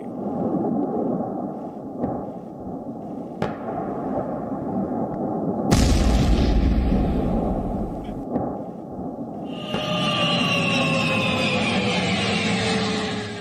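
Heavy booming explosions and rumbling crashes in the Ukraine war zone roll through a dense, noisy background, with a sharp roaring burst midway and a hissing whine afterward.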